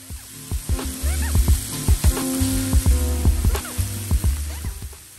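Shrimp fried rice sizzles on a Blackstone flat-top griddle, a loud steady hiss broken by repeated scraping and clanking of a metal spatula as the rice is tossed and stirred, close up with no talking.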